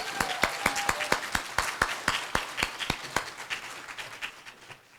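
A conference audience in a meeting room applauds the event's planning committee, sparse, distinct claps from a modest number of people, moderately close and gradually thinning out toward the end.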